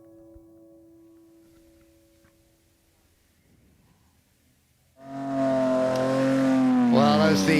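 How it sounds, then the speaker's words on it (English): A McLaren race car heads out onto the track at the Goodwood Members' Meeting. A faint low hum comes first, then a loud engine roar rising sharply in pitch as it accelerates close by. "As the McLaren heads out onto the track"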